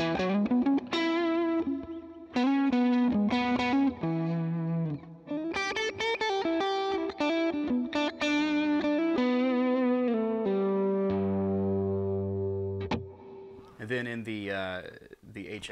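A distorted electric guitar through a Lawrence Petross Design Cholla overdrive pedal plays a run of driven notes and chords, sustained and gritty, ending with a few quick bends and scrapes.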